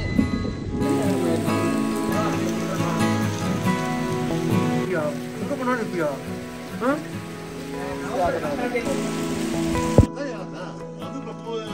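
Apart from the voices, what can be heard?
heavy rain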